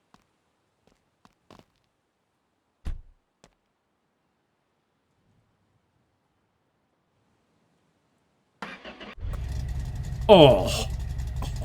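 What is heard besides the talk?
car engine starting up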